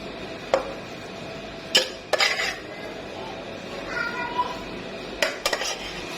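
Metal serving utensils clink and scrape against a pot and dish while portioning out cooked dum keema, a few sharp knocks scattered among quieter scraping, close and moderately loud.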